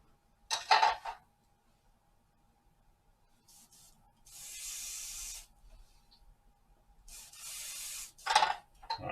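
Spray gun set to lacquer air pressure, releasing several separate bursts of hissing air and atomized finish, short close blasts and two longer sustained sprays separated by quiet gaps.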